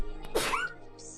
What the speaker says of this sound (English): I'm gonna sneeze though.